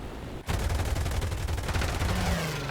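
Bf 109 F-4 cannons and machine guns firing at an ME-264 bomber in War Thunder, a loud sustained burst of rapid gunfire that starts abruptly and runs without pause under engine drone.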